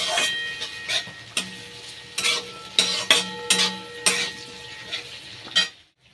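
Capsicum frying in a large wok, a steady sizzle broken by several loud scraping stirs with a metal spatula, close and without voices, ending abruptly in quiet.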